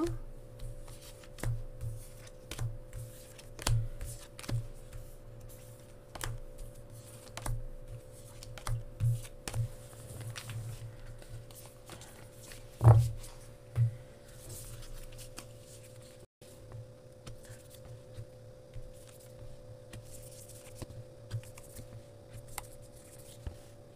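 Tarot cards are shuffled and drawn for a weekly astrology reading, with close, quiet riffling taps and soft slaps of cards coming in irregular bursts, one sharper snap partway through.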